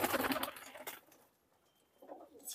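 A Dubwale pigeon coos softly at close range in two short bursts separated by a quiet gap.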